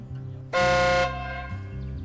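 The horn of a Shaanxi X3000 truck sounds once, a loud, bright, tonal blast lasting about half a second, close up, over the low hum of the parked truck.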